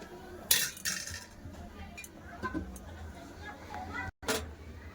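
Lid placed on a cooking pot of kohlrabi simmering in water, a few close metallic clinks and a knock scattered among softer kitchen sounds, with a person speaking nearby.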